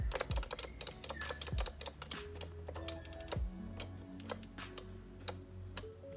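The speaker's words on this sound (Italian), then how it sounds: "Sentite come il click è molto ben distinto, nella pressione è tutta un'altra cosa" Microswitch joystick and buttons on a Neo Geo controller being worked, a rapid, irregular run of crisp, distinct clicks, close and quiet, with no voices.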